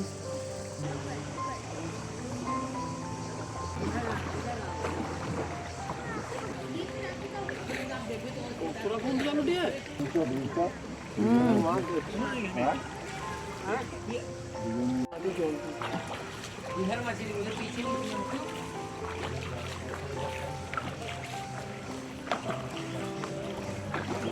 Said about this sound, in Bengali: আর আমরা এখন উমগট রিভারে বোট রাইড করছি।